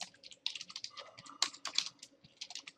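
Rapid typing of code on a computer keyboard, a quick uneven patter of close, crisp key clicks with no voice over it.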